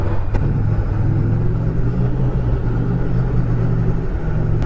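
Steady low engine rumble of an Indian Challenger motorcycle cruising in fifth gear at about 55 mph and 2,500 RPM, a continuous close drone with wind noise and no speech.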